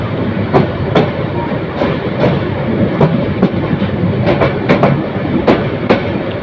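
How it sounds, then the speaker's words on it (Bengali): A train rolls into Dhaka's Airport railway station, its wheels clicking rhythmically over rail joints in a loud, continuous rumble. "বিমানবন্দর রেল স্টেশনের অপর দিকে আরেকটি ট্রেন প্রবেশ করেছে"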